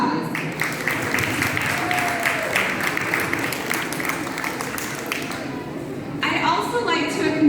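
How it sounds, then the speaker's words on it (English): A crowd at a community cultural event claps for volunteers, a moderate round of applause mixed with voices and murmuring, dipping briefly before swelling again near the end. "I'd like to give all of those volunteers a round of applause."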